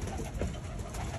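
Pigeons coo softly inside a cage, low murmuring bird calls heard up close for a brief moment.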